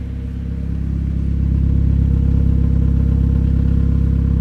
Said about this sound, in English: Has got a full stainless exhaust all the way through